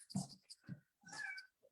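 A few short, quiet meow-like calls in quick succession, one stretched and wavering; they sound like a person imitating a cat.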